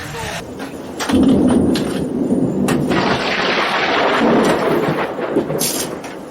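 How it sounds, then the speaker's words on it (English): Steady heavy rain roars across the whole clip with a low rumble underneath, loud and continuous, with no voices. "It's not just raining, it's f***ing raining."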